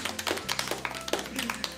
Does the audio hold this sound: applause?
yes